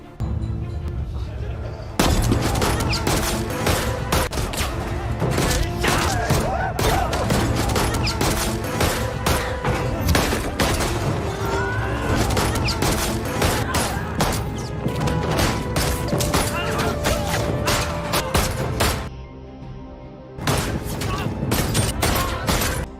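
Repeated gunfire in a violent gangster film shootout, with loud bursts of shots and crashes that keep up almost continuously for about twenty seconds and break off briefly near the end.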